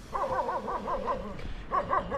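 Guard dogs kept with goats among a Gujjar community in Kargil bark in a quick series of sharp yips, somewhat distant and moderately quiet, with a short pause before a final burst.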